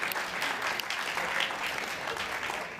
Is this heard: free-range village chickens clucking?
no